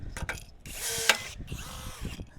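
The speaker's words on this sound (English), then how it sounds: "one more rivet right there" A pop rivet gun sets a rivet on a gate: a few quick ratcheting clicks and squeezes build to a sharp snap as the mandrel breaks, close up and brief.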